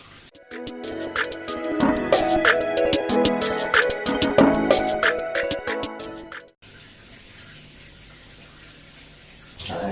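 Running water splashes and gushes loudly and unevenly for about six seconds while conditioner is rinsed from natural hair, then cuts off abruptly, leaving a quiet room hiss.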